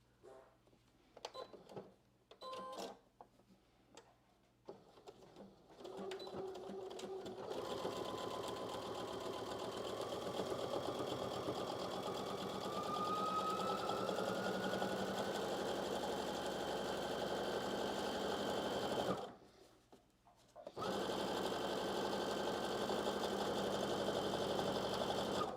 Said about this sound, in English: I'm actually gonna sew this as an edge stitch